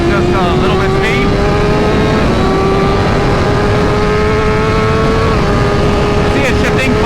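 A 2023 BMW S1000RR motorcycle, checked for a shifting fault, accelerates steadily with a loud, close engine whine rising in pitch, then dips briefly as it shifts up a gear before climbing again.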